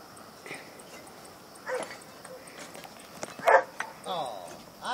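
A dog gives a few short barks and yips, moderately close, scattered among people talking and encouraging it in Italian.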